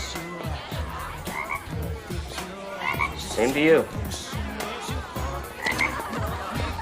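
Frogs croak in a scene from the film Halloweentown 2, a steady run of low, rhythmic croaks. A voice speaks briefly over them.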